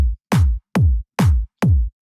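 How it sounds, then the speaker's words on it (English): Four evenly spaced punchy speed garage drum hits, kick with a clap on every second beat, each with a deep thump and a bright snappy top, repeating alone in a steady rhythm. "We then want to put a clap on every second beat."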